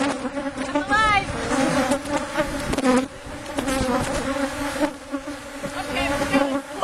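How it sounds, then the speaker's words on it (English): Dense, steady buzzing of many honey bees swarming close around hives in a commercial bee yard during an inspection, a continuous droning hum with no talk. "That was about 45 minutes to go through all these hives and hive a swarm on a commercial scale"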